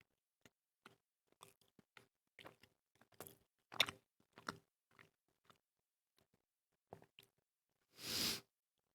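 Close mouth sounds of someone eating, with scattered soft wet chews and small bites in a quiet room, then a brief louder gulp or breathy swallow near the end.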